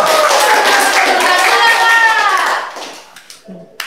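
Children clapping for a classmate during an elementary school lesson, a dense burst of claps with overlapping young voices that tapers off after about two and a half seconds, leaving a few scattered sounds.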